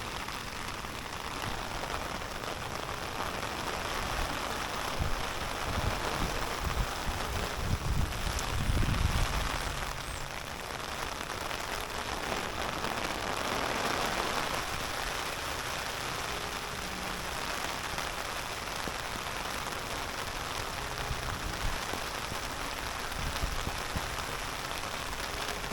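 Steady rain drums on an umbrella in a continuous, dense patter that holds at an even level throughout, with a slightly heavier swell of drops near the middle and no voices.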